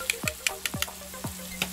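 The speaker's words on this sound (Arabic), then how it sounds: "لاصوص طوماط، حتى هي باش تطيب مزيان وتقلى في الزيت." Tomato sauce fries in oil, giving a faint sizzle broken by short sharp spits and pops at an irregular rhythm, with no voices.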